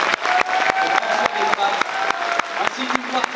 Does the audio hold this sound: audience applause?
yes